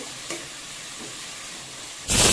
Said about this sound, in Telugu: కట్ చేసి పెట్టుకున్న ఉల్లిపాయ ముక్కలు వేసేసి ఉల్లిపాయలకి సరిపడా సాల్ట్ వేసి లో ఫ్లేమ్లో ఫ్రై చేసుకోవాలి